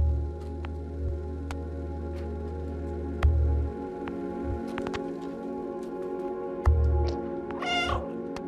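A cat in the video game Stray meows several times over steady game music and ambience, with repeated low thumps, a few clicks and a brief rising squeal near the end.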